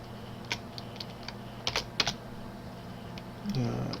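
Computer keyboard typing in scattered short bursts of clicky keystrokes, close and moderately loud over a low hum, with a voice starting to speak near the end.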